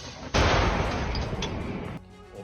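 Howitzer artillery firing on Russian positions near Donetsk in wartime Ukraine: one loud, sudden blast that rolls into a sustained rumbling roar for about a second and a half before fading, with no voices.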